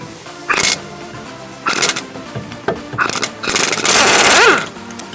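A 13/16 socket on a ratchet or impact tool works hideaway hitch bolts out of a truck's rear bumper in several short, harsh bursts, close and loud with pauses between them.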